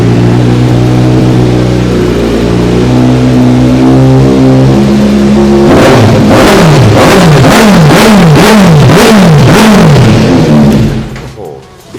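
Motorcycle engine at a bike market, with a Ducati Panigale V4S among the machines, revving loud and close: a steady idle gives way to a rapid series of about eight sharp throttle blips before cutting off.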